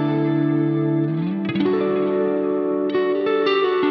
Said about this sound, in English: here I use a medium-high feedback and a medium-long delay. This blends really well with a long reverb.